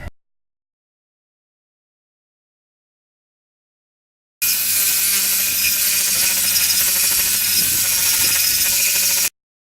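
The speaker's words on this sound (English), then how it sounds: "Cut that off, grind it where it smooths out from here." A power tool cuts and grinds the unneeded tabs off an Allison 1000 transmission bellhousing, a harsh, steady, high-pitched whir that starts abruptly after several seconds of silence and runs for about five seconds before stopping.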